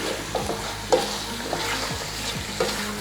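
Chicken for pilau stirred and fried in a pot, with a steady close sizzle broken by a few distinct scrapes and knocks of the spoon against the pot, with no talking.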